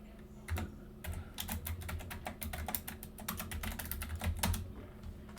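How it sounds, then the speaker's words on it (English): Fast typing on a computer keyboard while entering Cisco router configuration commands, a steady stream of crisp, close key clicks lasting several seconds with brief uneven gaps, quiet and with no talk over it. "We'll come over here and type in IS-type as level 2 only."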